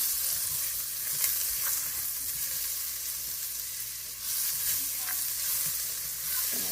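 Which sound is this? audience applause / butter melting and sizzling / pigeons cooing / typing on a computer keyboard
butter melting and sizzling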